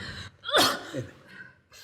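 A woman with a heavy cold sneezes once, a sharp, loud burst preceded by a quick inhaling gasp, followed by a softer breathy sound, close to the listener.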